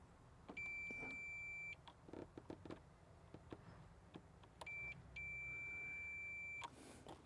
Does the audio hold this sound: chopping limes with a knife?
no